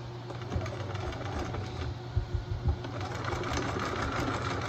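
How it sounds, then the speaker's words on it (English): A serger runs in short bursts, finishing the seams of a set-in sleeve at the armhole, its steady close mechanical whir loud and alone, with a few uneven stutters along the way. "I'm going to serge them or seam finish them as one."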